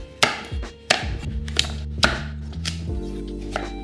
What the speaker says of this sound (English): First things first, cutting the pumpkin.